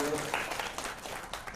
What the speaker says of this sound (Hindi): तो मनोज जी के लिए और गजेंद्र भाई साहब के लिए तालियां बजा दिया जाते हैं।